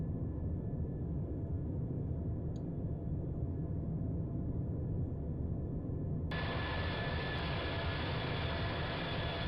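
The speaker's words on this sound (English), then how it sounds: "Gear down." In a flight simulator, the aircraft's landing gear lowers with a steady low rumble, then a sudden brighter hum and whine joins in partway through as the gear extends, continuing to the end.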